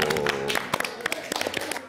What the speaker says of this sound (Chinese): 给老爷子掌声